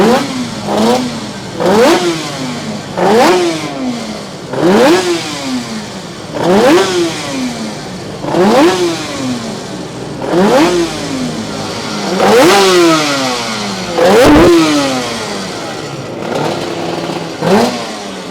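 Factory Suzuki GSX-R1000 K1 endurance race bike at Paul Ricard, its engine blipped again and again in sharp rising revs that fall away, about a dozen loud bursts in a steady rhythm, close by, with no talking.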